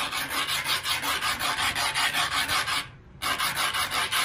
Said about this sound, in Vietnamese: anh em có thể nghe thấy tiếng cào đúng không ạ tiếng cào